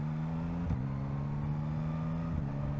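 A 2024 Yamaha MT-09 motorcycle accelerating with a quick shifter, a steady close engine drone with two brief dips where it shifts up, no talk over it.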